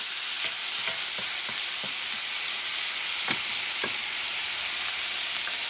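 Sofrito sizzles steadily in a little oil in a pan for arroz con salchichón, a continuous close fry broken by several sharp stirring knocks and scrapes.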